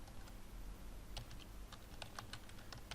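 Quiet typing on a computer keyboard while entering a spreadsheet formula, with scattered light key clicks in irregular bursts over a faint steady room hum.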